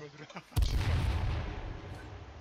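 A bomb blows up in the survival shooter H1Z1: a sudden loud boom after a brief quiet moment, followed by a rumbling roar that slowly fades over the next two seconds.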